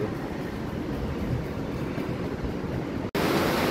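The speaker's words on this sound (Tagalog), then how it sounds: "malakas pa rin ang hangin" Strong typhoon wind in San Juan, a steady dense roar of gusts with no voices, ending in a brief abrupt dropout before resuming.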